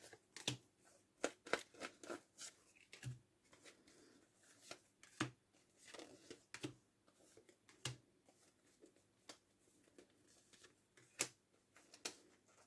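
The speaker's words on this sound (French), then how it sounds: "Alors, on va tirer 9 cartes" Tarot cards are drawn one by one from a deck, giving sharp, quiet snaps and slides at an uneven pace, close up in an otherwise silent room with no talking.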